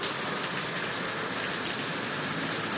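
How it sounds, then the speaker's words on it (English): A rainstorm pours down at One Daytona, a steady, dense hiss of rain striking surfaces close by, unbroken for nearly three seconds with no talking. "it just started, and it's raining"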